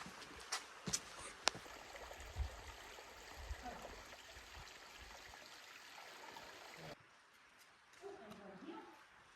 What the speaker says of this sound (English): the water's flowing like this